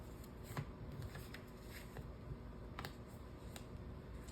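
Playing cards are shuffled and laid down in soft, faint riffles and light taps, with a few sharper snaps scattered through a quiet room, and nobody speaks.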